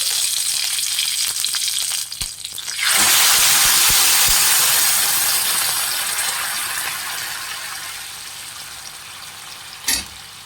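Mustard seeds and curry leaves splutter in hot oil for radish sambar tempering, a sudden loud sizzling burst after a few crackles that slowly fades, with a sharp clink near the end.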